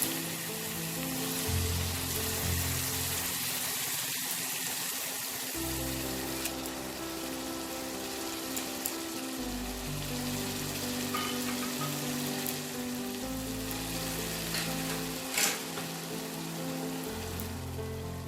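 Hilsa fish pieces frying in spiced oil, a steady dense sizzle and crackle like rain on a surface, continuous and fairly close, with faint tonal music underneath.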